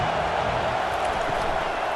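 Stadium crowd roaring in College Football 25 during a big moment, a steady dense wash of noise holding at an even level throughout, with no distinct cheers or voices standing out.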